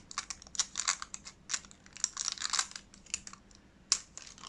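Gel nail foil wraps are peeled off fingertips in a quick run of close crinkly rustles and small tearing scratches, steady and alone with no talking.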